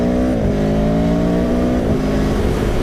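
A 2017 Aprilia Tuono motorcycle at speed, its engine droning loud and steady with brief dips in pitch as the quick shifter snaps through gear changes, no talking over it.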